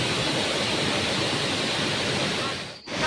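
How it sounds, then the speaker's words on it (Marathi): Waterfall at Dhutpapeshwar temple, a steady broadband rush of falling water filling the scene, with a brief dip near the end. "पाण्याचा धबधबा"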